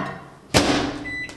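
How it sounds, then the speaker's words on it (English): A microwave oven door shuts with one sharp thud, followed by a faint electronic beep from the keypad. "I'm gonna add water and put that in the microwave"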